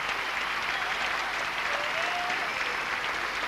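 A tennis crowd applauds a rally with dense, steady clapping throughout, close and full, with a faint whistle or cheer rising briefly through the middle.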